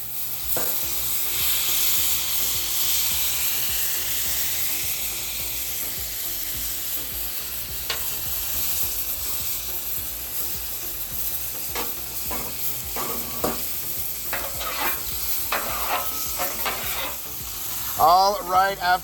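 A tomahawk ribeye steak sizzles steadily on a flat-top griddle, a continuous hiss of frying fat with occasional scraping and basting sounds, a louder burst of stirring near the end, and no talk.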